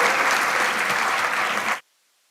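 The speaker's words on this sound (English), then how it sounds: "I think it calls for a big round of applause for each one of you" An audience at an inaugural ceremony applauds steadily with dense, loud clapping that stops abruptly, leaving silence.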